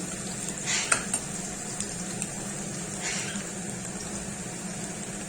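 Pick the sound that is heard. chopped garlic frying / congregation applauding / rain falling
chopped garlic frying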